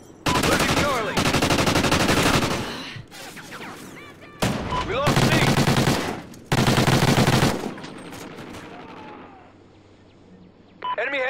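Bursts of automatic gunfire from a competitive team shooter match, loud and close, coming in several long volleys separated by brief gaps, with a quieter stretch near the end before firing resumes.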